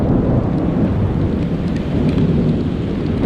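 Heavy rain pours down at sea off Fair Isle in a thunderstorm, a loud, steady, close downpour with low rolling thunder beneath it and no voices.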